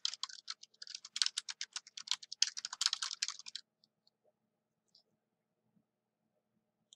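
Quick, even keystrokes on a computer keyboard entering a chart title in an Excel spreadsheet form a close, soft burst of typing that stops abruptly, followed by a few isolated faint clicks.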